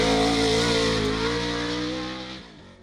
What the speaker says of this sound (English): We're testing out this 900 horsepower Pro 2 off-road truck